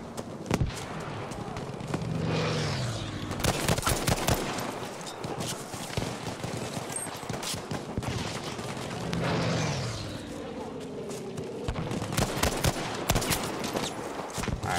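M1 Garand rifle fire in Battlefield V crackles in quick bursts of sharp shots, mixed with distant battlefield gunfire and low rumbling effects throughout.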